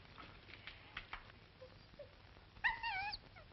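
A dog whimpers in a rustic cabin in a 1942 film, giving soft muffled whines and then a short rising, wavering whine, close and faint, with no talk over it.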